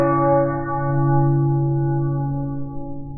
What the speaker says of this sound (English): a national bell tolling on the 11th hour of the 11th day of the 11th month